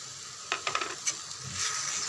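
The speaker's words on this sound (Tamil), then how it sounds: "இதையும் சேர்த்து ஒரு 2 செகண்டு நல்லா வதக்கி விட்டுடுங்க." Curd, tomato paste and masala being sautéed and stirred in a pan for a potato capsicum gravy, with a few soft scraping strokes and a low sizzle that swells slightly toward the end, close and fairly quiet.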